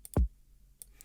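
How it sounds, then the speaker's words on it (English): A single kick drum sample from a monthly house-style sample pack hits once, short and punchy with a deep low thump. A few faint clicks come before and after it. "I'm going to start with this kick from my monthly sample pack over my community"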